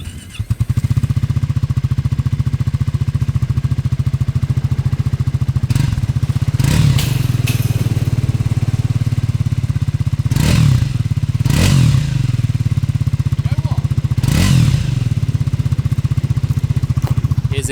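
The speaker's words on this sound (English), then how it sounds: "What does 398 cc's in a single cylinder sound like, you say?" A Triumph Scrambler 400 with its 398cc single-cylinder engine idles close to a floor-level mic, a steady, loud thumping beat with a few brief blips of throttle partway through.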